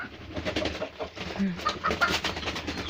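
Chickens cluck and coo close by in short, irregular calls, with soft voices murmuring in the background.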